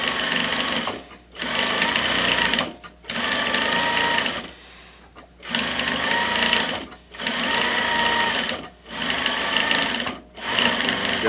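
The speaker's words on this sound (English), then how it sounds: "I'm going to swing my welt around and continue sewing." A sewing machine sews welt onto chair upholstery in a seat reupholstery job, running in six steady bursts of fast needle clatter separated by short pauses as the fabric is turned.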